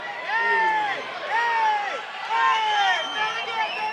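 A fight crowd at Monona Terrace roars continuously near the final bell of a Chosen Few Fighting Championship bout, loud waves of cheering and yelling swelling in several pulses.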